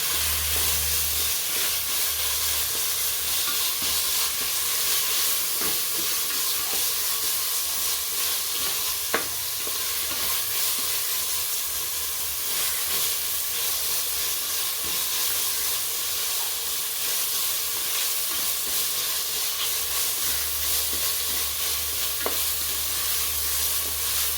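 Mint and coriander leaves sizzle in hot oil for mutton biryani, a constant dense frying hiss with faint intermittent scrapes of stirring and no talking.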